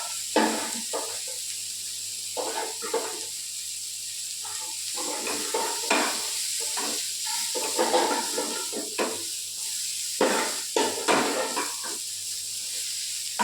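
Onions rinsed under running water, a continuous hissing flow with irregular splashes and sloshes as the pieces are moved about, fairly close, with no one speaking.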